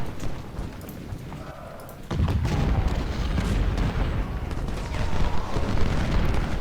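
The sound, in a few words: artillery fire in the video game Ultimate General: Civil War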